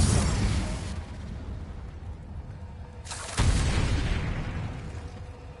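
A Confringo blasting curse from Hogwarts Legacy bursts twice: a broad explosive blast opens the clip and decays, then a second loud crack hits about three seconds in and rumbles on, with no talk.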